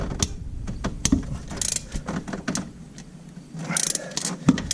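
Close, irregular metallic clicks and clunks of a ratchet loosening a 14mm bell housing bolt on a 2008 Subaru Impreza engine, coming in uneven bursts over faint background noise.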